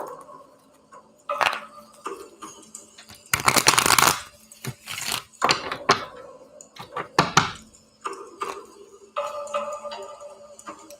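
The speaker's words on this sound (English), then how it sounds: "we're going to put it back in the deck and shuffle it" A tarot card deck is shuffled by hand, making irregular flurries of papery riffles and soft slaps. The bursts come and go in uneven pulses, close and fairly clear, with no talking.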